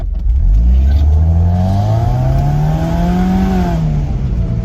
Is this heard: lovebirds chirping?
no